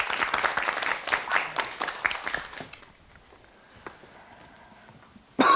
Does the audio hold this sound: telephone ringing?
no